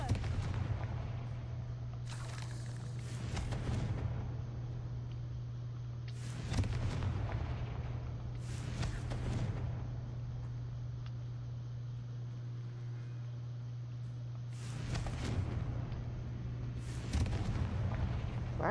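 Confringo blasting spell cast in a video game: about five loud, sharp explosive bursts with brief crackling tails, spaced irregularly over a steady low droning background.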